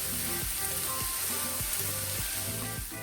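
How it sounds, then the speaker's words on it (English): Asparagus wonton filling sizzling in a pan while being stirred continuously to brown evenly, giving a soft, steady frying hiss with a few faint scraping strokes, close but quiet, with no voices. "Make sure to continuously stir it so that it doesn't burn, and that everything is getting equally browned."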